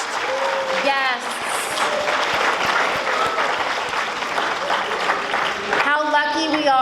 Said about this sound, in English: how about a round of applause for all of our distinguished guests?